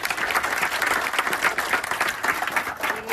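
Audience applause at the close of a veena concert, a thick wash of many hands clapping in a hall, loud and steady with slight swells for several seconds.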